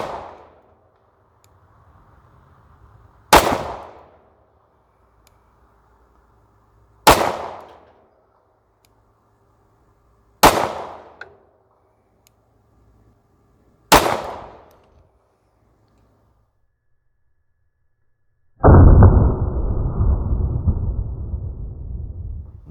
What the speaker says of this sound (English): Next up, 5 rounds with the Hunter in 10 millimeter.